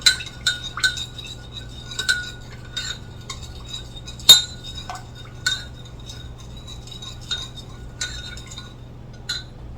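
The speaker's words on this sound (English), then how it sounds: "I'm going to stir that up." A spoon stirs a sloppy joe mixture seasoned with parsley flakes in a pot, making irregular clinks and scrapes of metal against the pan, close and sharp over a low steady hum, with no talk.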